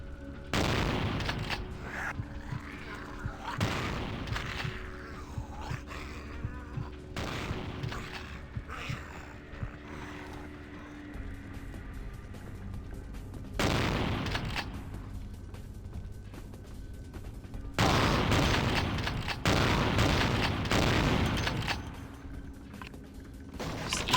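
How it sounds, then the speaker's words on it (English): Close-range shotgun blasts in a vampire video game, a few heavy booming shots spaced apart, with a low ambient game drone filling the gaps between them. "Just stand next to each other blasting shotguns."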